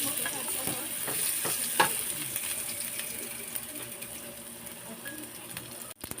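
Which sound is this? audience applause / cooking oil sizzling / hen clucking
cooking oil sizzling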